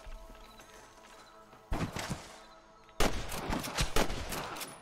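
Gunfire in the Western video game Red Dead Redemption: loud, close bursts of rapid shots hitting hard around 1.7 and 3 seconds, with hoofbeats and game noise underneath.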